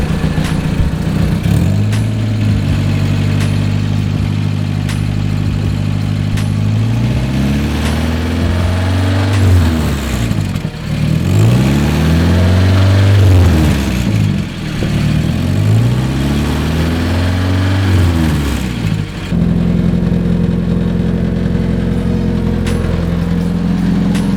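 A Mazda Miata engine runs close by with a fixed slave cylinder, idling steadily, then revving up and down several times in repeated swells as the wheel spins, before settling back to idle.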